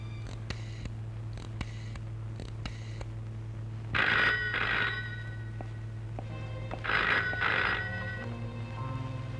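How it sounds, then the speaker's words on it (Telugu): Telephone ringing inside an emotional Telugu film scene: two bursts of double rings over a steady low hum, fairly close and clear, with quieter tapping sounds before them and no talk over the rings. "ప్రియ తీసిందా? లేదు, ఆయనే ఎత్తారు."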